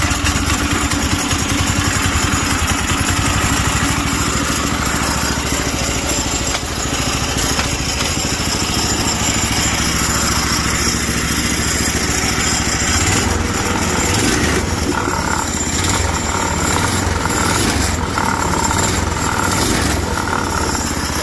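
A gas engine fitted to a converted golf cart, formerly electric, starts with the choke on and then runs steadily for about twenty seconds, loud, close and continuous with a buzzing, mower-like tone and no talking.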